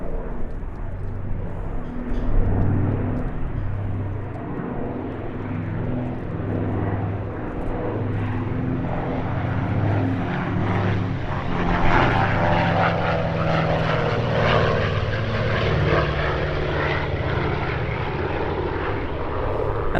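A 200-horsepower propeller aircraft engine drones loudly as the plane flies past at a Duxford airshow, swelling and shifting in pitch as it passes, with no talk.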